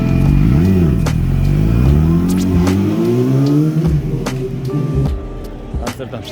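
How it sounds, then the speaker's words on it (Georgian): A motorcycle engine revving in the busy centre of Amsterdam, loud and close, with rising and falling pitch sweeps and repeated throttle blips that fade toward the end. "ერთადერთი მოტოციკლეტი, რომელიც ჯერჯერობით ნახე ცენტრალურ უბნებში."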